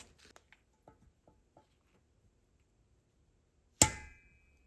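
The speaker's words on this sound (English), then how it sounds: "I'm going to use the same universal spring compressor we used in the previous video to press this down" A universal valve spring compressor works on the valve springs of a BMW 328i N20 engine during a rebuild: a few light metallic ticks and taps, a quiet pause, then one sharp, loud metallic clank that rings briefly.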